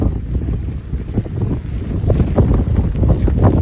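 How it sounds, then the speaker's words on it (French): Strong wind gusts buffet the microphone in bursts, with wind-driven rain lashing through, a loud, rough roar that swells and ebbs over a few seconds, with no voices. "Là on a déjà un passage de pluie battu par le vent."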